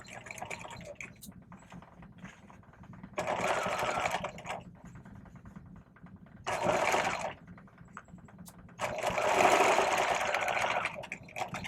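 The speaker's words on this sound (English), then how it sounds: "now we've got that stitched the exact same way as the welt was" A sewing machine stitching a welt pocket, running in three distinct bursts of steady, rapid needle chatter separated by quiet pauses, close and clear.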